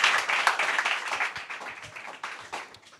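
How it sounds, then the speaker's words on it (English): A round of applause at a pitch summit in Austin, many hands clapping in a busy crowd, strongest at the start and gradually thinning out over three seconds. "Round of applause for all the discussions."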